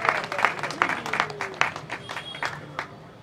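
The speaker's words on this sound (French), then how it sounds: "Acclamez très fort pour le chef de l'État." A crowd applauds and cheers for the head of state at a rally, a short burst of dense, close clapping with raised voices mixed in throughout.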